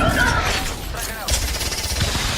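Gunfire in a first-person shooter video game set in 2033, a rapid crackle of shots over continuous background game noise and voice comms, with a louder burst near the end.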